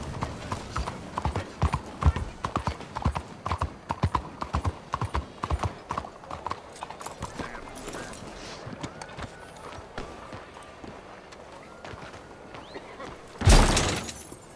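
In the Red Dead Redemption 2 video game, a horse's hooves clip-clop in a quick, even rhythm for several seconds, then fade. A sharp crash-like burst follows near the end.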